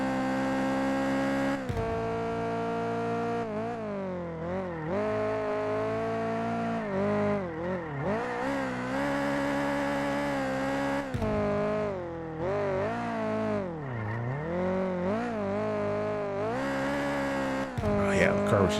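A race car in a Unity-engine driving game revs with a continuous synthetic engine tone that climbs and drops through gear shifts and corners, with brief dips as it lifts off, heard alone and close throughout.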